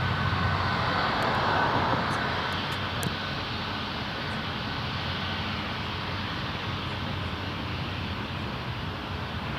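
An Air Canada airliner in light icy-blue livery departs Toronto Pearson for Miami, its engines a broad steady roar heard from a distance and slowly fading, with no talk.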